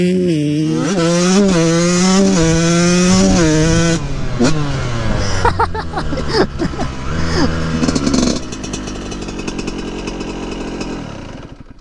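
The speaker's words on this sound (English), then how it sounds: "It's been quite a while since I've been on or even around a very small bore two stroke." A Yamaha YZ144 small-bore two-stroke dirt bike engine revs hard and close, its high buzzy pitch sweeping up and down several times, then settling into a rougher, choppier note before tailing off.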